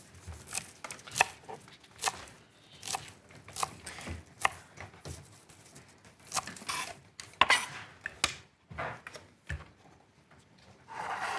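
Fresh coriander with its stems roughly chopped with a knife on a board, a run of sharp, irregular close taps, some quick and clustered, others spaced apart, with no one talking.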